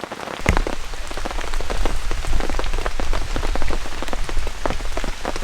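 Heavy rain drums steadily on a bivy bag outdoors, a dense, close patter of countless drops with occasional sharper splats, continuous and loud throughout.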